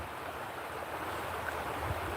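Steady broadband rush of creek water flowing outdoors, a continuous close wash with no voices over it.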